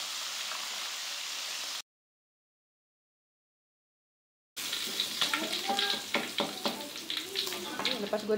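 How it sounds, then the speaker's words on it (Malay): Shrimp paste belacan frying briefly in a pan after fish, steady sizzling that drops out for a few seconds, then resumes with crackling pops and stirring clatter close by. "Okay, gorengkan sekejap belacan ni."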